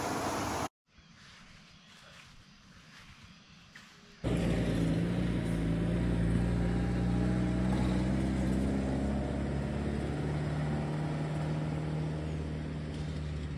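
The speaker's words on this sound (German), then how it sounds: "Das war ein richtiges südamerikanisches Auto." Car driving past on a rainy day in Paraguay, South America: a quiet stretch, then a sudden loud, broadband engine-and-tire roar that holds steady close by for several seconds before easing slightly.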